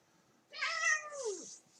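A single cat meows once, a clear, drawn-out call that rises and then bends downward, close and loud against an otherwise quiet background.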